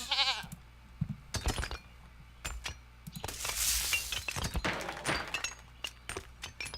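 Goats bleating in the strategy game 0 AD, several short bleats scattered among wooden thunks and clinks of farm work, with a longer wavering bleat near the start, moderately close and without talk.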